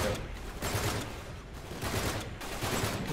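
Blind-fire gunshots from the video game Uncharted 3 rattle in rapid bursts over a dense, steady layer of game noise, with three heavier pulses across the stretch.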